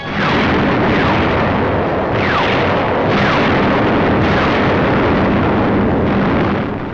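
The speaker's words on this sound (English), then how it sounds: "From the skies, a bombardment to which we had no adequate answer." Wartime aerial bombardment and artillery fire in the North African campaign near Tunis, a loud continuous rumble of explosions with repeated heavy blasts roughly every second, with no voices.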